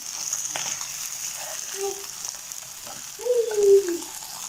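Fish fries in oil with a steady, fairly faint hiss and a few soft crackles, joined near the end by a brief tonal squeak.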